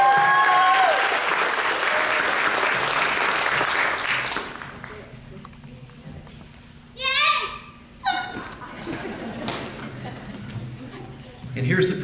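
Applause at a firefighter academy graduation ceremony, loud clapping for the first four seconds that then fades into a quieter room with scattered voices, short bursts of children's chatter and a brief renewed patter near the end.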